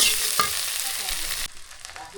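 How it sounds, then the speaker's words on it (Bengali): Vegetables frying in hot oil give a bright, steady sizzle with a clink of stirring, then the hiss drops sharply to a quieter crackle halfway through. "সবগুলো তেলের মধ্যে ভাজিয়ে"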